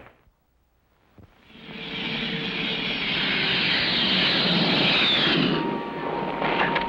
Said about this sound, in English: the Grumman Tiger. It's a jet